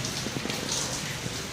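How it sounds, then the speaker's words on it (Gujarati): Heavy rain falls outside as a continuous, even hiss of rain on surfaces, heard briefly and steadily. "બહાર તો વરસાદ જબરદસ્ત ચાલુ થઈ ગયો"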